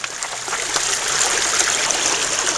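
Steady rushing water pours through a gold sluice box, a continuous, fairly loud broadband wash with small splashy flickers and no pauses.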